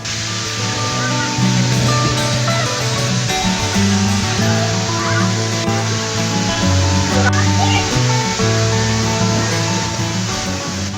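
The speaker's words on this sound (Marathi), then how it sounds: "हा धबधबा जवळपास 30 ते 35 फुटावरून कोसळत आहे." A waterfall plunging from a height of about 30 to 35 feet, a steady loud broadband rush of falling water filling the whole stretch, with voices faintly mixed in underneath.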